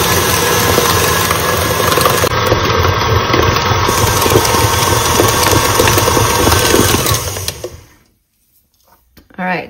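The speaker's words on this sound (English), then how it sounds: "I did finally kick my mixer up to the highest setting" A stand mixer runs at its highest speed kneading sourdough cinnamon roll dough, giving a loud, steady motor whir with a churning rattle for about seven seconds before it cuts out, leaving near silence and a brief knock at the end.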